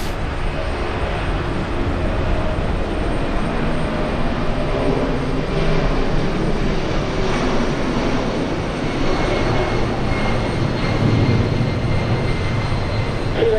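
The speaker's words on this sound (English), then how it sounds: "I'm sure you saw it in the background as the C-17 took off." A C-17 Globemaster military transport aircraft takes off, its jet engines producing a loud, continuous broadband roar that holds steady throughout with no voices.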